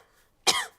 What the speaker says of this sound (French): j'ai attrapé une toux